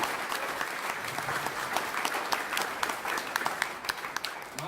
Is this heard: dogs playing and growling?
no